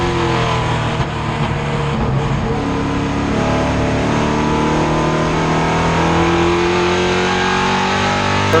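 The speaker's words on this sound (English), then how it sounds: "2 circuits remaining for Michael Bennett, the Magnum, in the Overshot Hardware sponsored machine" Late model race cars at Stafford Motor Speedway roar steadily around the oval in a continuous loud drone of engines and rising harmonics, with no break across the lap.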